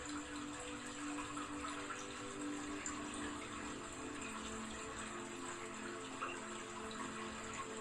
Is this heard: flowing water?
yes